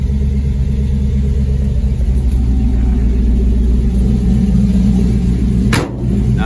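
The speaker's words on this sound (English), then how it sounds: "Nice exhaust on it, sounds good." A deep LS V8 engine in a 1952 Chevrolet 3100 shortbed truck idles with a steady, throaty exhaust rumble, loud and close, with a brief dip near the end.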